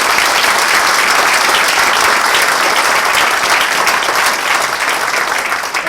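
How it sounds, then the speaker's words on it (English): Audience at a foundation case study release applauding as a loud, steady round of clapping from a crowd that holds for several seconds and fades slightly at the end. "So a big round of applause for Liz."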